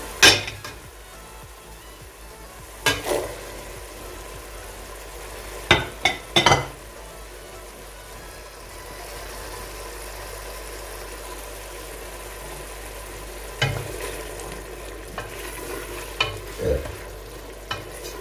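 Boiled chickpeas stirred into soft, cooked-down tomato masala in a pan, with a low continuous sizzle and a few scattered scraping knocks of the spoon against the pan.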